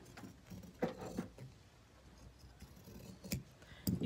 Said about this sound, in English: with a pinking shears. So I'm just going to trim it real close, but not too close.